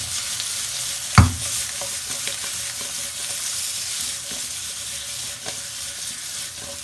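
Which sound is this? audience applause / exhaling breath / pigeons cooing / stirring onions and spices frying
stirring onions and spices frying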